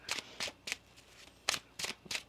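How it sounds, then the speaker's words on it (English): Tarot cards are shuffled by hand in a quiet room, making six crisp riffling bursts in an uneven rhythm with short pauses between them, close and fairly soft. "One more shuffle here."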